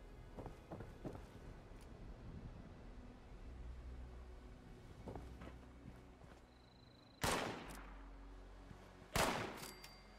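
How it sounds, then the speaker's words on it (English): Gunfire in Fallout 76 sounds as faint distant pops early on, then two loud, sharp close shots or blasts follow a few seconds apart over a quiet background. "Who are you shooting at?"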